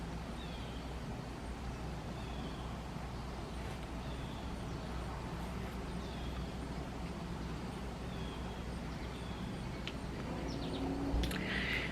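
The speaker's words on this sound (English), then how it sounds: "I love just sitting out here sometimes and just like listening to the birds" Birds sing faintly in repeated short phrases over a steady low rumble of distant traffic outdoors.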